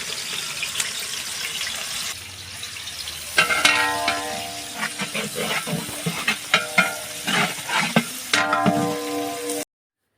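Onions, a batch of about 2.4 kg for a 6 kg mutton dum biryani, sizzle steadily in hot oil as they are stirred, with scraping and clanking stir strokes rising over the continuous frying hiss.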